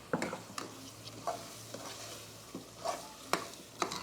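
Ground masala for mushroom biryani sizzles in hot oil as a spoon stirs it, scraping the pan in irregular close strokes over a steady soft fry.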